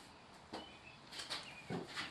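A rag rubs wood stain into a wooden surface, producing faint, soft swishing strokes in a few short bursts, close and quiet.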